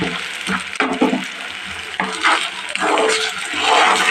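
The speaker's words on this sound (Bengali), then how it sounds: "দিয়ে এটাকে ভালো করে কষিয়ে নেব" Mashed taro (maan kochu) paste being sautéed and stirred in a pan for a bharta, with loud close sizzling, scraping of a spatula and uneven stirring strokes, no speech.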